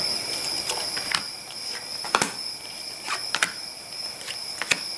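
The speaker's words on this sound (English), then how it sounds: "Well, it's not music, it's just crickets and it's just soothing to me." Crickets chirping in a forest, steady high-pitched trilling with a few sharper clicks scattered through, continuous and moderately loud.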